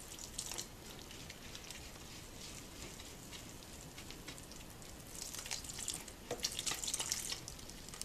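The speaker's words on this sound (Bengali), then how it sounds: "1/2 কাপ পানি, এটা আমি অল্প অল্প করে ঢালতে থাকবো।" Half a cup of water is poured gradually into a batter for mixed vegetable and mince meat rolls, a faint, steady trickle with brief louder splashes near the end.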